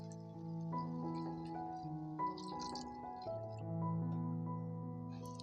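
Water poured onto rice in a pot for mushroom biryani, a faint, steady liquid trickle with soft drips and a quiet tonal hum, no talk.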